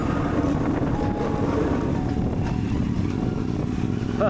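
A CFMOTO 450MT motorcycle runs along a compact dirt road with sweeping corners, its engine a steady mid-level drone blended with heavy wind rush across the microphone, continuous and unbroken with no talk.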